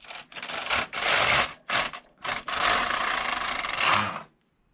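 A Passap E6000 knitting machine carriage slides back to undo a row, making a few short scraping strokes and then one long rasping sweep that stops cleanly.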